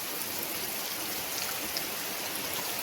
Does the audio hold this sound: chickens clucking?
no